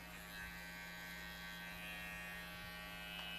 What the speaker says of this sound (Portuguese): Você vai só encostar com a maquininha de acabamento para tirar aqueles fios que estão passando